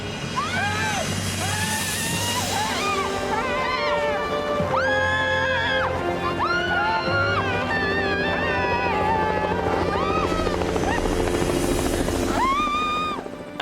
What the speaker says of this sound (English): coming up from the valley floor is that sound of a helicopter